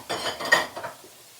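Spring onions are stirred briefly in a hot pan with peas and onion for chicken fried rice, a short close burst of scraping and clinking that quickly fades.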